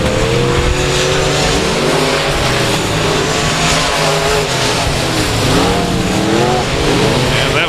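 Race cars lap South Texas Speedway with loud, layered engine roar, several cars revving and rising and falling in pitch as they pass close by, continuous throughout.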